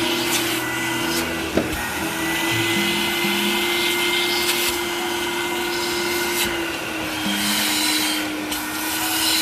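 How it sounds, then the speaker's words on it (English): An all-in-one vacuum cleaner runs close and loud with a steady motor whine and airy suction noise, with a brief knock near the start and slight shifts in pitch as it works, and no voices. "See how awesome that vacuum is? The suction on this machine is pretty amazing."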